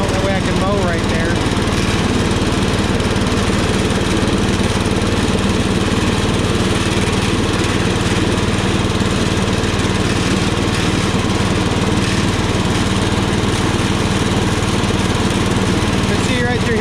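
Power King garden tractor mowing a lawn, a loud continuous engine drone with mower deck noise close by throughout, steady without pauses.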